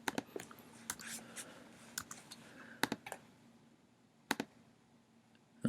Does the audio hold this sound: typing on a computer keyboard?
yes